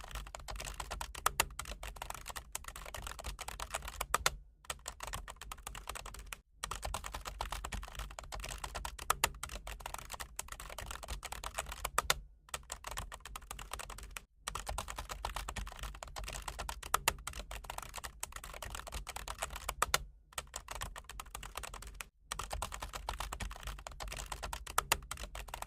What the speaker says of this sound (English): Here I will type it and then explain.